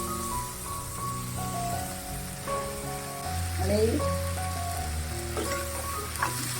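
Chopped onion and okra frying in a pan for an Indian bhendi stir-fry, giving a steady soft sizzle with occasional stirring scrapes beneath a melodic tonal background.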